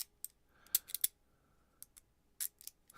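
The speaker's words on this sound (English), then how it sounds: "I'll annoyingly sit here clicking my little wrench." Small Knipex pliers wrench clicked repeatedly by hand, giving sharp, close metallic snips in irregular bursts with quiet gaps between them.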